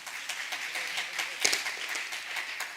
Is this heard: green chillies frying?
no